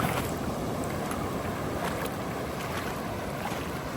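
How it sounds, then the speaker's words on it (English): Waves wash and splash continuously along the side of a river swollen by a tropical storm in Sabang, Palawan, Philippines, a close, rough churning of water with wind noise and no voices. "Got a little wave action on the side."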